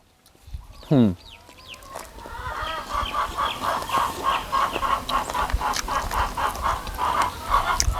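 Chickens cluck continuously around a rural home, their busy, overlapping calls filling the scene after a brief louder rising sound near the start, with faint low background noise underneath.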